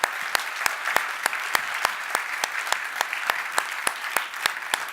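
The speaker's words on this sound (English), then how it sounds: "I think we should give them a good round of applause" An audience claps for contestants at a beverage competition final, a fairly faint, even patter with a few distinct sharper claps standing out at irregular intervals throughout.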